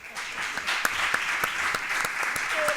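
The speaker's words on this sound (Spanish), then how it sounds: "Un aplauso para Juana." Audience at a data protection and security forum applauding, a steady patter of many clapping hands sustained for a few seconds.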